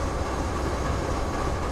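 A freight train being coupled together in a rail yard at night makes a dense, steady, loud rumble and grind that fills the whole moment, close by with no voices.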